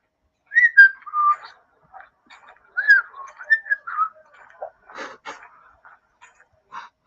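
A sparrow whistles a wandering, melodic tune in short phrases with pauses at night, fairly close and clear against a quiet background.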